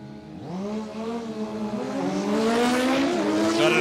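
A drag racing motorcycle launches at Palmyra Dragway with first gear muffed. The engine's loud, close whine climbs in pitch, stumbles briefly, then keeps rising and building in volume.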